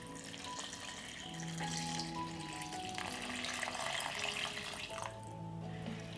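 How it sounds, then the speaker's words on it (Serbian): Hot water poured into a cooking pot over sautéed potatoes and other ingredients, a steady rushing splash with some clinks and rattles, fairly close and moderately loud throughout. "Sipat ću vruću vodu da prekrije sve sastojke."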